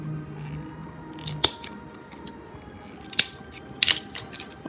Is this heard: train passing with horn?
no